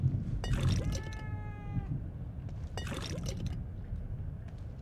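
A cat meows in The Evil Within 2, one drawn-out meow followed by a shorter one, fairly faint over low game ambience.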